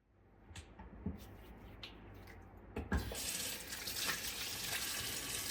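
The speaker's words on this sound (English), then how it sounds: "So important to wash our hands after what we were just doing." Hands being washed under a running tap, with a few clinks and splashes before the water flows steadily into the sink, near and alone.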